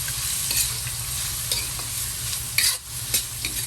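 Tofu and bean sprouts sautéing in a pan with carrots and green beans, a steady close sizzle broken by several scraping stirs of a utensil, one louder clatter near the end.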